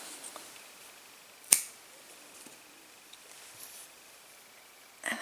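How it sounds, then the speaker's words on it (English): Scissors snip through crochet yarn in one sharp, close click, followed by faint small handling noises and another light snip near the end; otherwise quiet. "we can cut our yarn"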